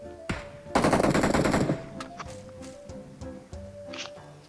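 PUBG Mobile gameplay on the Miramar map, with a single gunshot followed by a rapid burst of automatic fire, then scattered lone shots and soft footsteps, while players talk quietly.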